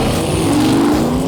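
A 1,400 hp Hoonicorn or 760 hp Ford GT500 Mustang engine roars loud and close in one sustained, rising growl at a racetrack, lasting about a second with no speech.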